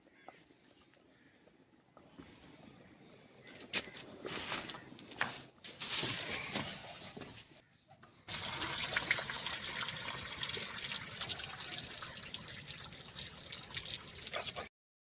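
Water from boiled rice for sweet zarda is drained off. Scattered splashes and trickles come first, then a steady close gush of pouring water runs for several seconds before stopping abruptly.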